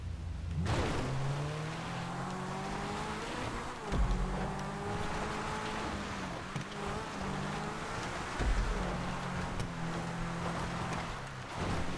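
A Zentorno supercar in GTA 5 hot laps a race track, its engine droning steadily and climbing through gears, with brief thumps and shifts as it pushes hard, no talk.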